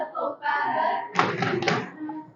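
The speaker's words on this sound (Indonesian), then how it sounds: "Oke, tepuk tangan, tepuk paha." Children in a classroom clapping their hands and slapping their thighs together, a short burst of claps and pats over a sung or chanted voice nearby.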